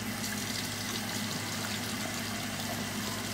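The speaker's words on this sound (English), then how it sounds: "Sorry, I'm washing my mirror off." Water from a tap runs steadily while a mirror is washed off, a constant close hiss and splash with a low hum beneath it and no voices.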